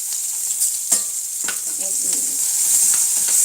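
Peanuts and onion drop into hot oil with green chillies, giving a loud, close, bright hiss that swells and holds steady, with a couple of sharp spatula knocks near the start.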